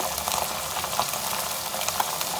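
Minced meat (keema) frying in a pan, giving a dense, close, steady sizzle with small crackles and light stirring scrapes, no voices.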